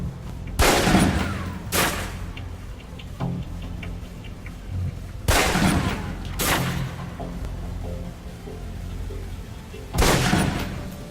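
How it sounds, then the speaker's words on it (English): Pistol shots fired at a range target in the video game Alpha Protocol: a handful of sharp single cracks, spaced a few seconds apart and sometimes paired, over a low ambient game hum. "Equip the pistol, then aim down range and take some shots at the target."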